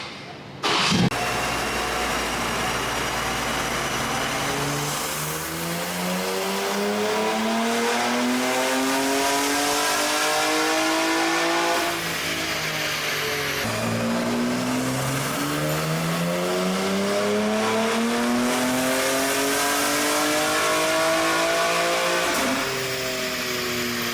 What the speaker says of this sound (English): Now we got the car on the dyno.